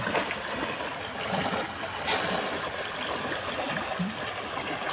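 A creek flowing steadily beside the bank, a constant close burble and rush of water with no pauses, alone with no talk.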